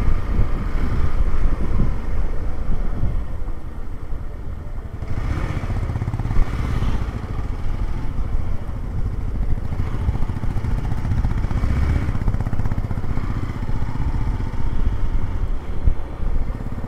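A motorbike rides over rough mountain roads in rainy-season North Sikkim, near Lachen and Mangan. A steady low engine drone runs throughout, overlaid with heavy wind buffeting on the microphone.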